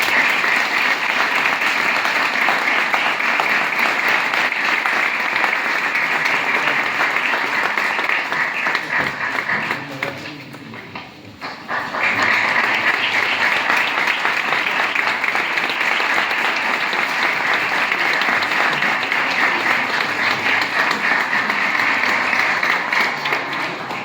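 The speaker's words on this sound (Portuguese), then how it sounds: "un cálido y fuerte aplauso" Audience in San Vitero gives a long, warm ovation, loud and continuous clapping from a sizable crowd that briefly dips around the middle before surging back and carrying on steadily.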